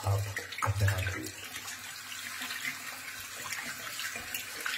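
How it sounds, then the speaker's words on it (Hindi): Running tap water splashing over hands being washed, a continuous close rush of water with a louder gush near the start, no voices. "पानी कम से कम इस्तेमाल करते हुए आप अपने हाथ धोइए।"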